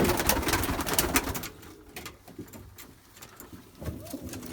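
A young six- to seven-month-old male pigeon coos among other birds, with a dense flutter of noise at first, then softer repeated low coos nearby.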